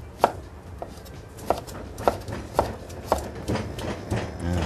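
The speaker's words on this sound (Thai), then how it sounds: "พริกก็หั่นฉลับธรรมดาได้เลย" A knife chops bird's eye chili peppers on a cutting board in a steady series of sharp, close taps, about eight cuts spaced roughly half a second apart.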